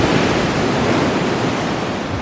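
Rough ocean surf crashes and roars continuously at a Jamaican beach in Ocho Rios, a loud, dense wash of breaking water with some wind, no voices.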